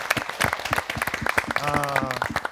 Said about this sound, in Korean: 우리 다 함께 격려하는 박수 아이고. 보내드리겠습니다